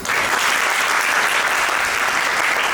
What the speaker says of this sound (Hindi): कम से कम आपको तो जोरदार तालियां बजानी चाहिए।